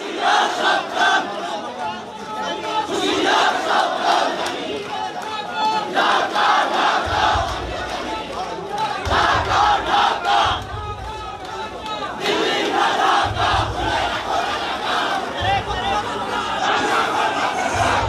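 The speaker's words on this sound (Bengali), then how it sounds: "দুই পক্ষ বেশ কিছু সময় ধরে দুই পক্ষকে লক্ষ্য করে স্লোগান দিচ্ছে" Rival student groups at a campus gate chant political slogans back and forth, a loud dense crowd of many voices shouting in rhythmic bursts, with pulsing low thumps of the chant beat.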